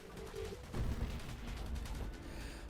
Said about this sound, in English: I wanna shoot my fancy purple bullets now